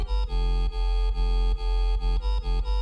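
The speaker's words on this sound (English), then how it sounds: "the main bass here that's giving it that sort of big filthy bassline sound" A big, filthy synth bassline for a bassline beat, heavy and distorted with a deep sustained low end, chopped into short rhythmic stabs with brief gaps, loud and alone.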